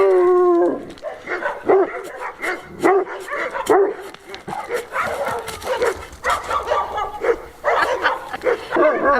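A pack of about 26 rescue dogs next door barking, yipping and whining continuously, an overlapping din that varies in strength with some howls and whimpers in between, slightly distant.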